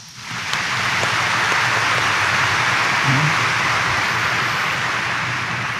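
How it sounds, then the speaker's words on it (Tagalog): A congregation applauds inside a church during a Mass honoring Jesus Nazareno, the clapping a dense, steady, rain-like roar that swells in quickly and holds loud and unbroken for several seconds. "pumalakpak ng mas malakas"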